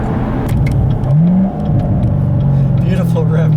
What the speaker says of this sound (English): Beautiful rev match downshifts.